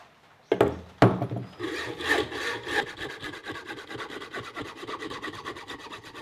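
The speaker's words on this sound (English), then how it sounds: "so that hacksaw" A hacksaw cuts through metal on a boat build in steady rhythmic back-and-forth strokes, close and fairly loud, after a couple of sharp knocks at the start; no one speaks.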